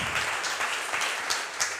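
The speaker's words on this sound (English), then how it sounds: "Let's give her a great big applause and thank her." Applause from an audience at a neighborhood community meeting, a steady dense patter of many hands clapping close by for nearly two seconds.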